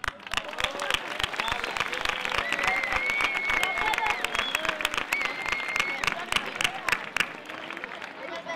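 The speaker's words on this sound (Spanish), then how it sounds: "Un aplauso muy fuerte a esos representantes de cada peña" A festival crowd claps loudly and continuously for the neighbourhood club representatives, dense sustained applause filling the room with faint voices underneath.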